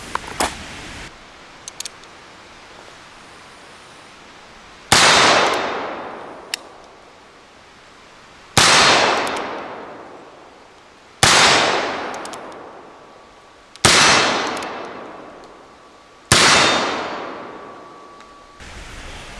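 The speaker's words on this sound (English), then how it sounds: "So we're shooting 4440 black powder hand loads with it." Five loud, close black-powder shots from a Remington Model 1890 revolver firing 44-40 hand loads, each sharp crack followed by a long ringing decay, spaced a few seconds apart with a couple of small clicks before the first.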